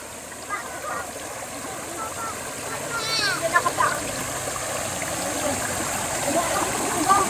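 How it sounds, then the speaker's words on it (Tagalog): A strong stream rushes steadily over rocks at a riverside spring resort in Botolan, Zambales, a continuous broadband wash with occasional splashes, while people talk and call out over it. "Lakas ng agos, oh."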